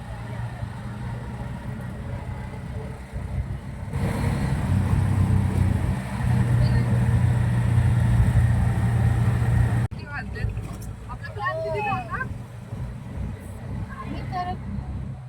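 Engine drone of an auto rickshaw riding away from Borivali station toward the east side, a steady loud rumble that swells midway and then eases, with a person talking over it near the end.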